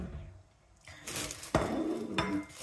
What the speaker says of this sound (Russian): это мне лампа мешает для того, чтобы достать тарелочку